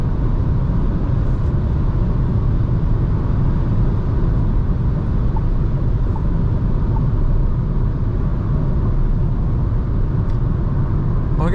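A 2024 Renault Clio with the 1.0 TCe 90 hp engine cruises at night, a steady loud road and engine rumble with broadband tyre roar that stays fairly constant throughout.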